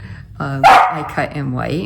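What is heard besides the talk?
dog barking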